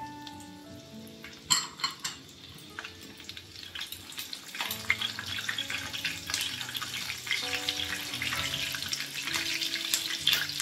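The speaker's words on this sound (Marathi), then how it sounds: "मी थोडीशी मिरची देखील इथे थोडी तळून घेते आहे." Green chilies frying in hot oil for poha chivda, a crackling sizzle that builds and stays busy, with clinks of utensils against the pan and a faint hum in the background.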